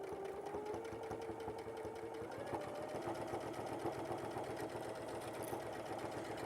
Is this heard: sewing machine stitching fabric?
yes